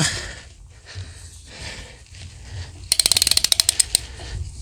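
A VANPO half-inch torque wrench ratchets in a quick burst of about a dozen sharp, close clicks while tightening nuts, after a stretch of faint handling noise.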